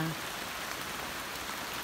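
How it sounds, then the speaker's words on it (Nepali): Steady rain falling on a banana farm during transplanting season, a dense even hiss of drops with no pauses. "अब अहिले फेरि पानी परिरहेको छ।"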